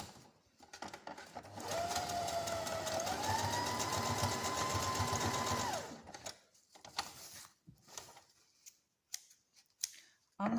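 A sewing machine stitches a tote bag seam in one loud, continuous whirring run that shifts pitch partway through, then stops and gives way to scattered handling noises.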